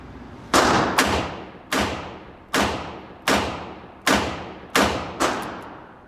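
Colt Trooper revolver firing seven sharp, loud reports at a steady, even pace, each with a long decaying ring-out and no talk.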